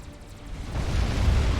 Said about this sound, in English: The Seraphim explosion is actually quite underwhelming